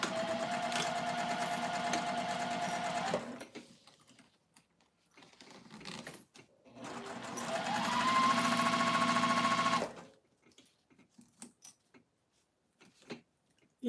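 A sewing machine stitches a quarter-inch seam in two steady runs of rapid mechanical whirring, near and loud, with quiet handling clicks and pauses between them.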